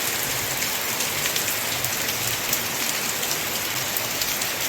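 Heavy rain pours down in a dense, constant hiss, loud and unbroken with no voices.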